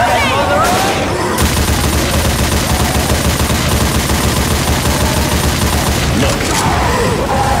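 Sustained, dense gunfire from a Left 4 Dead 2 zombie shooter fight, loud and continuous with rapid overlapping bursts and booms throughout, a brief lull near the start and end.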